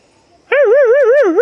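A voice imitates a puppy's bark, a single sustained, wavering yelping whine that starts abruptly and stays loud and close, alone without other talk.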